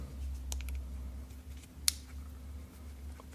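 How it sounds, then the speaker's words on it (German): An Apple Watch band snaps into its slot with a few small, crisp clicks up close, the sharpest single click standing out over a quiet, low room hum. "Klicks, rastet perfekt ein."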